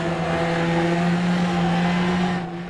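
A Formula Trainer race car in the Automobilista racing game holds a steady, loud, buzzy engine drone at near-constant revs for a few seconds, easing off slightly at the very end.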